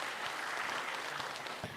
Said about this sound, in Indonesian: Tepuk tangan dong buat mereka.